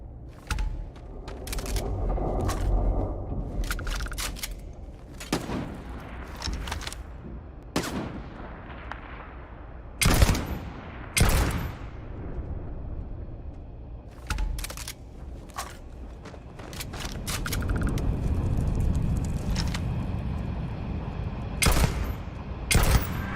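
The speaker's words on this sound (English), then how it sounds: "this sniper rifle's good. I do like this. It's on. Fire" Sniper rifle shots ring out in Starfield, a series of sharp, loud cracks spaced irregularly across the stretch, some in quick pairs, with rumbling mechanical ambience and low noise between them.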